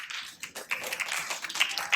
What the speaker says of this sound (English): A big round of applause to our students.